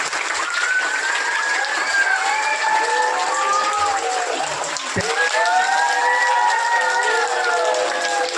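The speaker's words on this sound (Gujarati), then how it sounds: "Shrimati ઇનાબેન R Sharda education department સચિવાલય ગાંધીનગર બેન સિંહનું ઓલા પરિવાર વતી જોરદાર તાળીઓથી આપણે સ્વાગત કરીશું" An audience at a school girls' education ceremony in Gandhinagar district claps loudly and continuously to welcome a guest, with tonal voices or whistles rising over the sustained applause.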